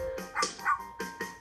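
A puppy called a frog terrier yips and barks in the video game Bread Puppies, giving about four short bright barks in quick uneven succession, close and clear.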